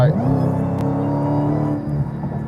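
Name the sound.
Dodge Demon 170 car engine running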